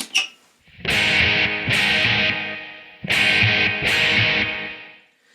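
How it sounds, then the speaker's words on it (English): Electric guitar run through a Line 6 M13 digital delay, playing four loud distorted chord strums in two pairs, each ringing on with echoing repeats between hits. "I have some delay in there."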